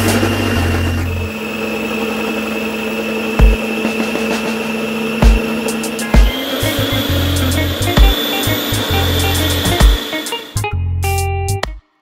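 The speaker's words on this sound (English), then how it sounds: "The gelatin in, and then I'm going to whisk again." An electric whisk runs steadily while gelatin is mixed into homemade banana ice cream, with a loud continuous motor whine, brief pitch shifts and small bumps, stopping near the end.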